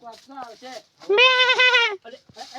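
A goat bleats in a forest setting, a few short calls followed by one long, loud, wavering bleat, with brief human voices around it.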